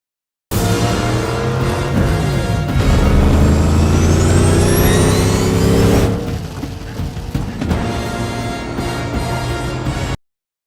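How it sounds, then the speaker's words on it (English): Car chase from the film The Batman: a loud engine revving hard under intense action sound, with rising whines and a roaring surge that eases into a lower rumble before cutting off abruptly. "The car chase was really awesome"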